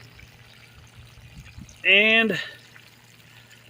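A hose runs water at full blast into a hole in a lifeboat, making a sudden loud gushing pour that lasts about half a second before easing off, with a brief spoken word just before it.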